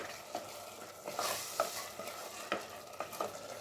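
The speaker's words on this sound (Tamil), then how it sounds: "நல்லா கலந்துக்கலாம்" A spoon scrapes and stirs minced mutton in a sizzling pan, several distinct scraping strokes at an uneven pace over a soft, constant fry.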